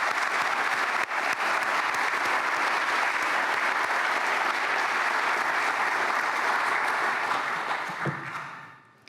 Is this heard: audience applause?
yes